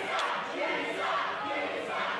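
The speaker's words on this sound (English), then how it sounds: "the crowd making their feelings towards the AK very, very clear" A wrestling crowd at a Christmas cage match roars and shouts in a dense, continuous wall of noise, loud and unbroken throughout.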